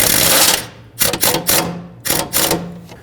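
Bolts are tightened while an alternator goes into a 2012-2020 Nissan Pathfinder: close, rapid ratcheting clicks come in a few short bursts with brief gaps between them.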